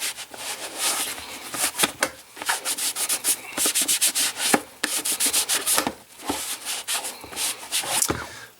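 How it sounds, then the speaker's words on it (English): Brisk back-and-forth scrubbing as a baby wipe dampened with stamp cleaner rubs Chalkola chalk marker off a surface, close and steady with short pauses between strokes, no talking. "we're going to take a little bit of that stamp cleaner. And I'm going to have to get a clean baby wipe."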